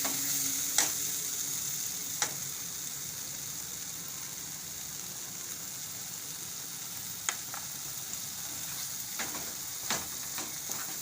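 Dahi marchanu shaak, a Gujarati yogurt and chilli dish, cooks in a pan after salt goes in, a continuous close sizzle with occasional sharp ticks of a spoon against the pan.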